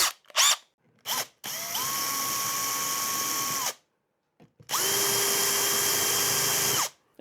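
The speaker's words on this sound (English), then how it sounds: "Cheeky centre finding drill." A centre-finding drill bit bores screw holes in a guitar body, two long steady high-pitched whirring runs of about two and three seconds, each preceded by short trigger blips, loud and close with no talk.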